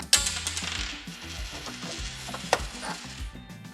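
A bolt is pulled from the gas spring mount of a VIVO desk riser, giving soft metallic scraping and ratcheting clicks with a small clink partway through, close and fairly quiet.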